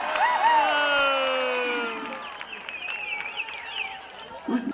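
A crowd at the opening ceremony of the Yuva Sambrama 2025 festival cheers and shouts loudly, high whoops and voices rising over scattered clapping before the noise gradually thins out.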